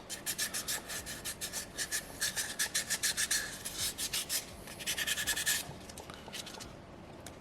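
Quick back-and-forth strokes of sandpaper smooth scratches from a small soapstone orca carving, a close, raspy scrubbing in rhythmic bursts of pulses that fades to a softer rub near the end.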